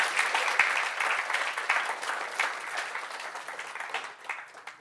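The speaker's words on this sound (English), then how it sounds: "Save those claps for Mom." A live audience at a spiritual centre service claps together in a full round of applause that gradually tapers off toward the end.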